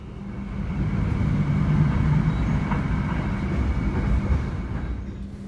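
Aboard the Argo Dwipangga train as it runs, a steady low rumble of the carriage with continuous rolling noise holds at a constant moderate level throughout.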